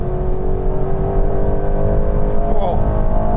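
An Aston Martin Vantage sports car's engine drones loudly and climbs steadily in pitch as it launches hard from a standstill, rear-wheel drive, with a brief shift partway through.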